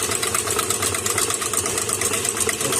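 Electric hand mixer beating cream cheese and sugar for a cheesecake at higher speed, a steady continuous motor whir with a dense buzzing tone, close and fairly loud, running without a break.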